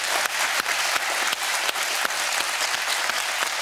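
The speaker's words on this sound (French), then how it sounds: "Merci, on peut vous applaudir." An audience on a French-language show applauds steadily, a dense wash of many clapping hands with a few sharper individual claps standing out, continuing evenly for several seconds.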